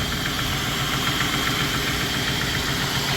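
A 2001 Ford Crown Victoria with a tired fuel pump runs at idle, a steady dense mechanical drone with faint ticking, close and unchanging throughout.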